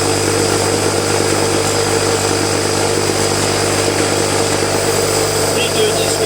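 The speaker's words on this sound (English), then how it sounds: "So that's my wire wheel." Wire wheel spinning steadily on a bench machine while cleaning rusty secateurs, a constant loud whirring drone with a low hum running throughout, no break in the sound.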